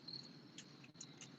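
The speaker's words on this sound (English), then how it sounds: "You hear the crickets and everything?" Crickets on a pretty evening outdoors give quick, high, thin chirps in short repeated pulses over a soft, quiet background hush. They are faint and a little distant, with no one speaking.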